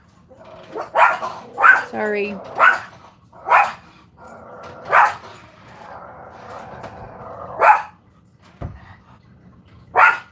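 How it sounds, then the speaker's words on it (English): Several dogs barking indoors at a home, sharp separate barks spaced every second or so with a brief whining yelp, close and fairly loud, while a person says a word between them. "now the dogs are barking."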